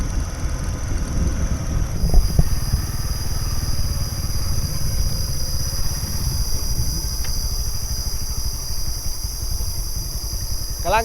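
A motorcycle rides a village dirt road in rural Laos in second or third gear. Its engine drones steadily and close with a throbbing rumble, and a faint high whine runs on top.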